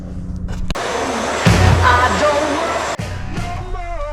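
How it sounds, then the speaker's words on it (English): A brand-new Hoover vacuum cleaner, used while cleaning a Porsche 911, gives a loud, close whooshing roar that cuts in abruptly and shifts in pitch as the nozzle moves, with a brief drop near the end. "Brand new Hoover. I love it. Works so well."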